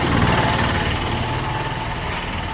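A loud vehicle with no muffler or catalytic converter passes on a sunny street, a close, harsh, rumbling engine roar filling the whole moment without any talk.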